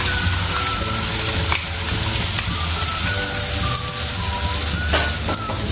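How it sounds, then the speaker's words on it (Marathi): Blended batter for a restaurant-style lasuni methi (garlic fenugreek curry) goes into a hot pan with coriander powder and turmeric, and a loud, steady sizzle with scraping carries on throughout, close and without talk. "ते टाकल्यानंतर आपण जे मिक्सरला बॅटर काढलं होतं ना ते सगळं टाकून घ्यायचं."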